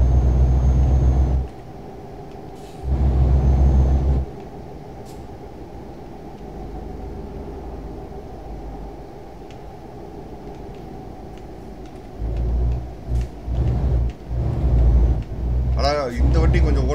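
A truck in Euro Truck Simulator 2 drives with a steady low engine drone that runs throughout, and someone talks over it in several loud stretches.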